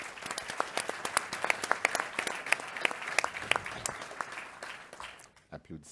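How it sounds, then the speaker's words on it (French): Spontaneous applause from an audience at a conference on preventive health, made of sharp individual claps in a fairly loose rhythm that fade out near the end. "Applaudissements spontanés"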